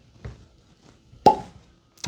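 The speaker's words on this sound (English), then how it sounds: "okay, solid cork pop." A solid cork pops from a bottle of 92-proof straight bourbon whiskey from Water Tower Distilling: one sharp, close plop after a few soft handling sounds, with a faint click at the end.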